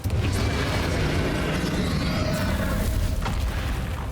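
A Confringo explosion spell goes off in Hogwarts Legacy, a loud continuous booming blast with rumbling low end and crackling debris that fills the whole stretch without letting up.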